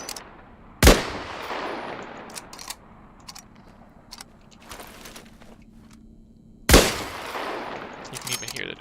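A suppressed sniper rifle in Islands of Nyne fires two sharp, powerful shots several seconds apart, with lighter mechanical clicks and faint gunfire in between.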